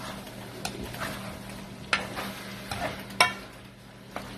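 Beef frying in a pan for Filipino-style spaghetti gives a steady low sizzle, broken by several sharp scraping stirs of the spatula, near and fairly quiet with no voices.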